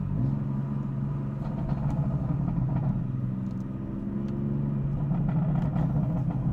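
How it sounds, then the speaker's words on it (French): BMW car engine and exhaust rumbling steadily from inside while driving, a low continuous drone with faint scattered pops and crackles on top. "Bon, bien sûr, vous avez les pétarades."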